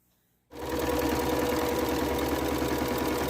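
A sewing machine stitches a quilt-as-you-go block, starting abruptly after a brief quiet moment and then running steadily with a fast, even mechanical hum and rapid needle rhythm, close and loud with no talking.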